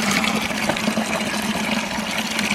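Water gushes steadily out of an open drain plug at the bottom of a ram pump's silt catchment bucket, a loud, continuous close-up splashing flow with no talk.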